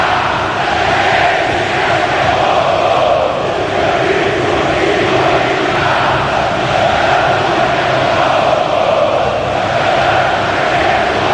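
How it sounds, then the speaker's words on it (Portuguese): Corinthians supporters filling the stadium with a dense, continuous roar of massed chanting at a Libertadores match against Barcelona, loud and unbroken throughout. "Olha o que a torcida do Corinthians está fazendo, ouça aí."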